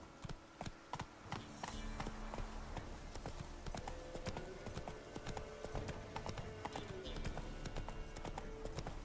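Horse hooves clip-clop rhythmically in The Witcher 3 as the mount trots and climbs over terrain, a steady run of close, clear hoofbeats with game ambience beneath.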